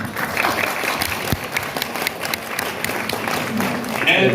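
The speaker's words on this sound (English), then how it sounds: "Give a round of applause for our distinguished guests." An audience at a migrant-worker briefing event in Hong Kong claps for distinguished guests, a sustained, fairly close round of applause with a few sharper individual claps and faint background voices.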